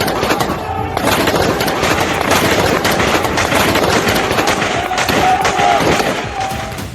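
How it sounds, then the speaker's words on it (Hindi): Several rounds of gunfire ring out in Gaza, dense bursts of rapid automatic shots crackling loudly and continuously, near and harsh, with faint shouting voices underneath. "एक दो नहीं, कई राउंड गोलियां चली"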